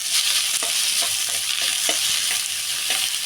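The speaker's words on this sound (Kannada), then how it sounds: "ಈರುಳ್ಳಿ ಹಾಕೊಂಡ್ಬಿಟ್ಟು ಸ್ವಲ್ಪ ಇದನ್ನು ಫ್ರೈ ಮಾಡೋಣ." Chopped onion and cumin seeds fry in oil in a pan, giving a loud, steady hiss and sizzle with soft periodic stirring scrapes every half second or so.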